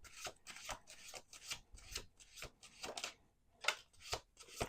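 Tarot cards being shuffled by hand, a rapid run of papery riffling bursts with short pauses between, close and fairly quiet, with no talking.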